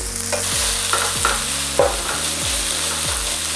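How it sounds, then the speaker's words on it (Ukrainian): Onions sizzle steadily in a small amount of hot oil while a utensil stirs and scrapes the pan in repeated strokes, close up, with no talking. "Смажу цибулю."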